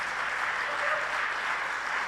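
Steady, even applause from a seated audience honoring a Solve Challenge winner at a conference session, a moderately quiet, unbroken wash of clapping held at one level throughout.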